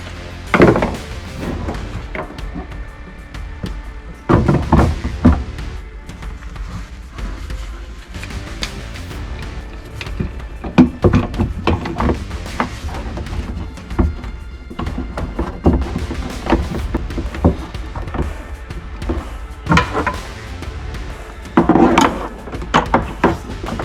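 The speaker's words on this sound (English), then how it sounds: "Now I'm going to put the oil tank in there next." Heavy hollow thunks and knocks sound as an oil tank is set into place in a boat's hull during bilge pump repair work, irregular close impacts and shuffling spread over many seconds.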